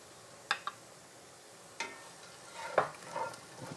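Shagbark hickory nuts stirred in a pan, a few sharp scraping clicks and rattles of a utensil over a faint sizzle, close and fairly quiet, no voices.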